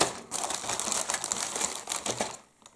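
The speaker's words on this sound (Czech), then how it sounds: "Já ho tam zase zpátky zabalím." A plastic model aircraft kit being rewrapped in its packaging, with a continuous close crinkling and rustling of plastic wrap that fades out at the end.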